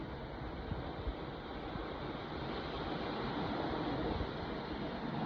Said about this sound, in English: Going to sleep with the sound of these waves is pretty sweet.